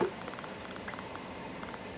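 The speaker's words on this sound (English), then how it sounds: "And it's coming up to a boil, so I'm going to cover this." A pot of soup for Chinese steamed chicken comes up to a boil, a soft steady bubbling and faint popping heard close but quietly over a low background hum.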